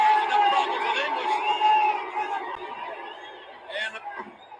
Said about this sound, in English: What is this crowd shouting? Something in French, I think.